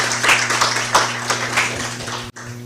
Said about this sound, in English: Please give a round of applause to Ms.